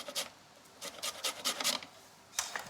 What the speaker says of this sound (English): So just using your grater.